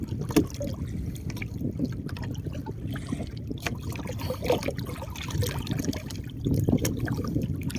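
Waves slosh and lap steadily against a small fishing boat on flooded fields during the high-water season, a continuous close watery churn with wind and no talking.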